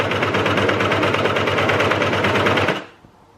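A cover stitch sewing machine threaded with three needles stitches fabric in a fast, steady mechanical chatter for nearly three seconds, loud and close, then stops abruptly into near silence.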